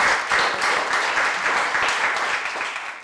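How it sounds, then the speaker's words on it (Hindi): Loud, enthusiastic audience applause for Paralympian Deepa Malik after recalling her first Himalayan car rally, a dense continuous roar of clapping that fades slightly at the end. "इस बात पे तो एक जोरदार तालियां बनती है।"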